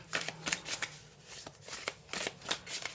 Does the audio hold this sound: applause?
no